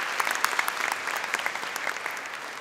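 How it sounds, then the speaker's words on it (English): A crowd at a 2017 university convocation ceremony bursts into applause, many hands clapping in a lively, uneven patter with sharper individual claps popping out near the front, continuing steadily without anyone speaking. "let's give them a round of applause"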